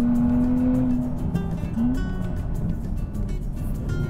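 A Nissan Z NISMO with a manual gearbox holds a steady engine drone while drifting through a slide, the pitch rising slightly as the throttle is balanced, loud and continuous with faint tire noise.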